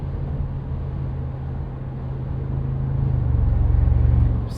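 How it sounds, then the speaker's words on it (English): From the cabin of a 2025 Mercedes-AMG G63, the 4-liter biturbo V8 hums low while turbo spool swells in a rising whoosh over the last couple of seconds, then eases, with no talking. "You also hear those turbos spooling."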